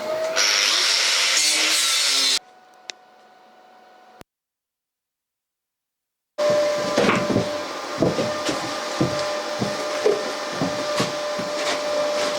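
A power tool cutting steel plate for a narrowboat's engine bay bulkhead: a loud, close, steady grinding whine that stops briefly, falls silent, then resumes with irregular rasping bursts.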